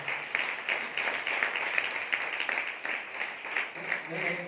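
Steady crowd clapping from an audience at a church Christmas celebration, a dense, even patter that holds for several seconds before a voice begins near the end.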